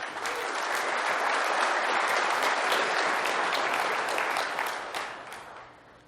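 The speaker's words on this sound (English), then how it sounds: "give yourself a round of applause for that thing" A large conference audience applauds loudly in a dense, steady roar of clapping that slowly fades toward the end.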